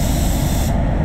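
Spray gun hissing steadily as it lays clear coat onto an Audi Q3 in a paint setting, a close continuous spray burst that cuts off abruptly near the end.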